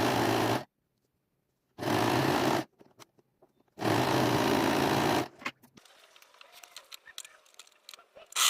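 Sewing machine stitching quilt patches together: loud, close bursts of rapid mechanical stitching separated by pauses, followed by quieter handling clicks and rustling.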